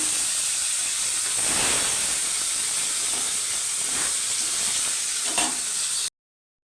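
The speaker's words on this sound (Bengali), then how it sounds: "গরম হয়ে গেছে, কই মাছ দিয়ে দেবো।" Koi fish frying in hot oil in a kadai: a steady, bright sizzle that carries on evenly for about six seconds and then cuts off abruptly, with a few soft clinks or stirring touches partway through.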